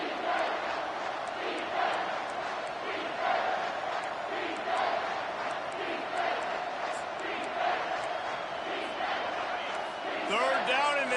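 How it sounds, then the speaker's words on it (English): A college football stadium crowd roars loudly on a third down against Florida State, a sustained thunderous wall of noise with rhythmic surges and chanting swells throughout. "this crowd is tearing the lid off this place"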